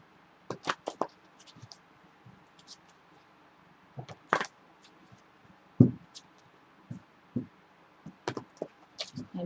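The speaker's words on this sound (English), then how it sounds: "Let me shuffle you guys some more. It's not really wanting to shuffle." Tarot cards are shuffled by hand in quiet surroundings, a series of short papery riffles and slaps in irregular bursts with pauses between them.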